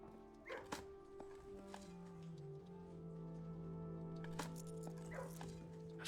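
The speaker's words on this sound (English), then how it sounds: "Dog. Good boy." A dog in the video game Blue Prince gives a few soft yips and barks over a steady low game soundtrack, faint and quiet.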